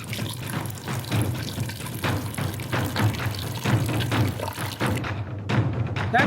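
Tamarind water poured into a dry fish (nethili karuvadu) curry cooking outdoors in a village kitchen, a steady close liquid splashing and trickling that runs continuously before tapering off near the end.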